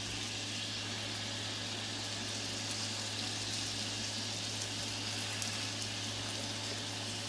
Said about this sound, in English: Oh, you hear the sizzle? That's the sizzle that you want.